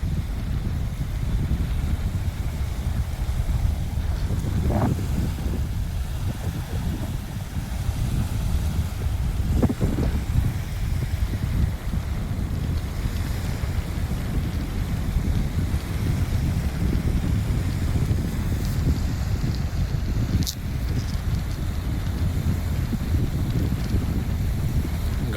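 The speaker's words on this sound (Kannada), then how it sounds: "ಗಾಳಿ ಬೀಸುತ್ತಾ ಇದೆ." Steady wind roars and buffets at the Agumbe sunset point, a constant low rushing with occasional gusts and faint clicks, and no voices.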